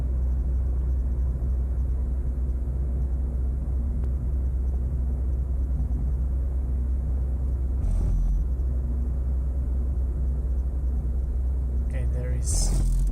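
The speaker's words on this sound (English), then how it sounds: "Okay, third gear, cruising at about 50, a little bit less." Mazda 626 cruising in third gear at around 50, a steady low engine and road rumble heard from inside the cabin, with brief thumps and rattles toward the end.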